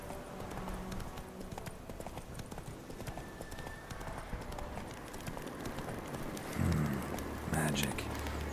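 A horse clip-clops along in the video game The Witcher 3, its hooves a steady rhythmic patter at moderate level under game ambience, and a loud thump and whoosh come near the end.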